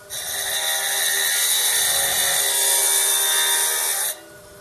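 A saw cuts into a Mintabie opal specimen, giving a steady, loud, high-pitched whine that runs unbroken for about four seconds and then stops abruptly, with no talking.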